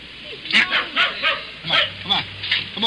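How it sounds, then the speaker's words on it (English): A dog barks repeatedly in short, quick yaps, close by, mixed with a person's voice trying to calm it, set in a 1950s radio drama. "Stop barking."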